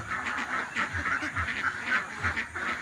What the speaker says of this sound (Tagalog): Marami na ang ating mga alagang itik.